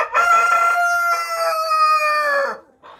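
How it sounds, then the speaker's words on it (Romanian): A Plymouth rooster gives one loud, close crow lasting about two and a half seconds, with a brief faint cluck just after. "Dintre care mi-am selectat acest cocoș, foarte, foarte frumușel."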